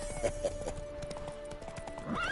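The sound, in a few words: spooked horse neighing in the video game The Witcher 3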